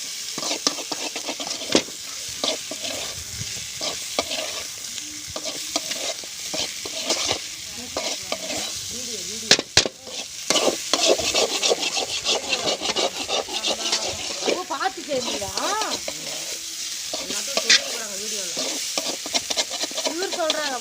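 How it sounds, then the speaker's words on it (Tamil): Raw banana frying in oil in a pan at a village cook site, stirred steadily with scraping strokes and a continuous sizzle, close and fairly loud with no talk. "நல்லா எது வரையும் கிண்டணும்னா அதோட எண்ணெய் போகிற வரையும்"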